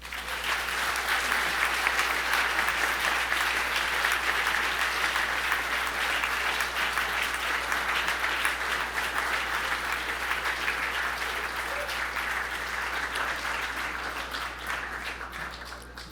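Sustained, full-room applause from an audience at a journalism awards dinner, loud and continuous throughout, tapering slightly toward the end.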